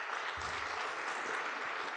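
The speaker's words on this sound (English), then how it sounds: "So a round of applause." An audience at a workshop event breaks into applause, a steady wash of many hands clapping at moderate distance for the full two seconds.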